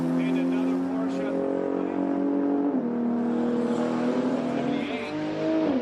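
A Porsche race car accelerates past at a high-speed roll racing event, its loud engine note rising, then dipping and climbing again over crowd noise and a voice.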